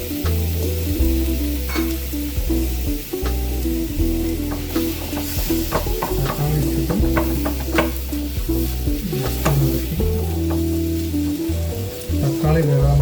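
Tomato frying in a pan for a home-style chicken curry, with a loud steady sizzle and repeated stirring scrapes running throughout; there is no talking.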